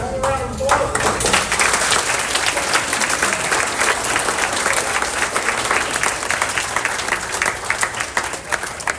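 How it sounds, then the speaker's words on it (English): A banquet audience gives a round of applause, loud, dense clapping from many hands that starts abruptly and holds steady for several seconds, close and filling the room. "One more round of applause."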